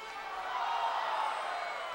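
Baseball stadium crowd on a Tuesday night at a York Revolution versus New Britain Bees game, with a steady, distant roar of cheering and chatter that swells slightly and holds throughout.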